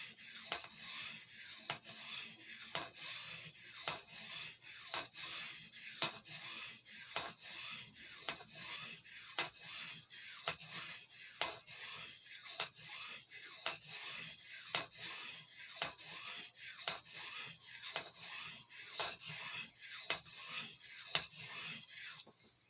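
Marbles Large Stockman spey blade sharpened with light strokes, a long even series of soft, rapid rasping scrapes at a steady rhythm, close and quiet, with no voices.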